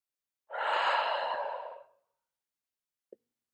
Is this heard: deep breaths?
yes